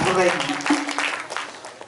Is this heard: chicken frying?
no